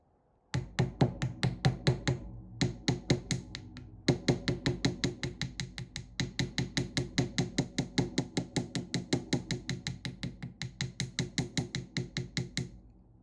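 Rapid, steady metal hammer strikes on copper wire for earrings ring out one after another, dozens of sharp taps close up with a brief pause near the start.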